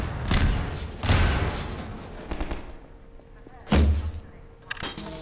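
Several heavy, spaced gunshots in Half-Life 2, each a sharp boom with a decaying tail, separated by quieter stretches of low background game sound.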